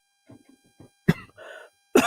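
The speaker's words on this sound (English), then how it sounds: "I've been coughing a little bit extra" A single sharp cough close by from a person with allergies, preceded by faint soft sounds and followed by a short throaty noise and another cough-like burst.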